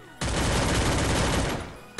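A Scar assault rifle fires in the Free Fire video game as one loud, continuous rapid burst lasting over a second, then cuts off abruptly, with no talking.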